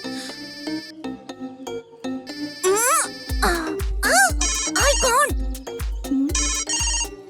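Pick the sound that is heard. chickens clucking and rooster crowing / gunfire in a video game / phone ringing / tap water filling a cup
phone ringing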